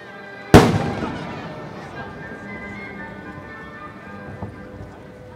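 A single sharp firework shell bursts with a loud crack at a fireworks festival in Kuwana, Japan, then a crackling, fizzling tail fades over several seconds, with a faint second pop near the end.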